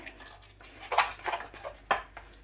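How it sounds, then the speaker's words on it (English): Milk mixed into a cake mixture in a bowl: several close clinks and scrapes of a utensil against the bowl in short irregular bursts, with no talk. "So I've added the milk. And let's mix it in together."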